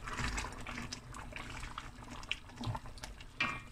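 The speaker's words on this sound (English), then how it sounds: "because it can stick, so you just come and stir." A tomato ox trotter stew in a Cape Malay kitchen simmers and bubbles in a pot while being stirred, giving a soft, steady wet churn with a few small clinks.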